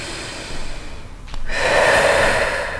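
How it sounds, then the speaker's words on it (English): A deep breath drawn in through the nose, then a longer, louder exhale during a yoga-style back stretch, close and alone without talking. "One more time, deep breath in."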